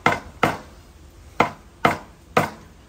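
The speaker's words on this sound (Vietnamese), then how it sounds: "Và cái đồ thì Dũng cứ chặt như thế này đó." Fish being chopped with a cleaver on a board for a home-cooked Vietnamese meal of sun-dried croaker, five sharp, loud chops at uneven intervals with no talking.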